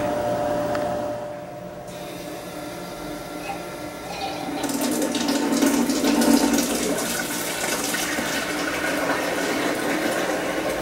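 Water flowing and filling inside a FRESER TB-35T tea brewer, a steady rushing and gurgling stream that grows louder and brighter partway through, continuing without pause to the end.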